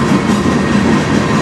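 A CN train on the Strathroy Subdivision near Sarnia, Ontario rumbles past close and loud, with a continuous, dense rolling roar and no voices.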